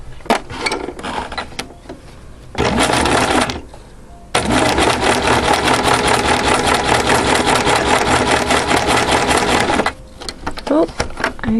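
Sewing machine stitching fabric for a Sunbonnet Sue quilt appliqué, running in a short burst and then a long steady whirring stretch of rapid stitches, close and loud, with brief pauses and small mechanical clicks between.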